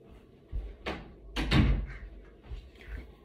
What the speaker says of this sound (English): Had to shut my door.